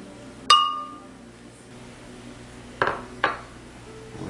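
Salt and pepper go into a bowl of hummus base, heard as a sharp clink of a utensil against a glass bowl followed by two softer taps a couple of seconds later, in a quiet kitchen.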